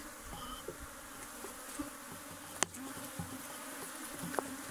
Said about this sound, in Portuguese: O enxame está querendo enxamear.